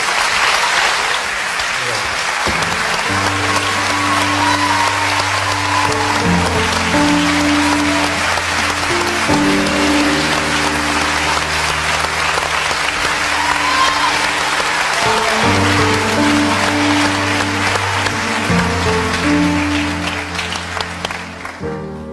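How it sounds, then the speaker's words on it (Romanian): Long, loud applause from a studio audience at a televised talent show, steady and sustained over music, with a little talk at the start before the clapping takes over. "Vrem să o aplaudăm."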